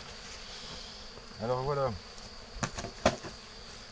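Honey bees hum steadily around a Spanish Layens hive being moved from six to twelve frames, a continuous close drone throughout, briefly under a man's short spoken phrase and a few sharp knocks.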